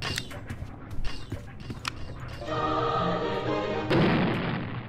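A bomb goes off in the Roblox horror game Doors with a loud, sustained rumbling blast after a series of short thuds and clatters, and a second louder burst follows near the end.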